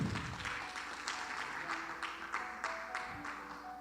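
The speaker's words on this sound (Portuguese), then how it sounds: "Aplauda o nome do Senhor." A church congregation claps in rhythm, even hand strikes about every third of a second, moderately close and fairly quiet, with faint sustained voices or music beneath.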